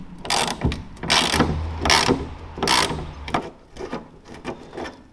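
Ratchet undoing the hood bolts on a VW Golf 4, heard as several close, loud bursts of rapid clicking separated by short pauses, with no talking.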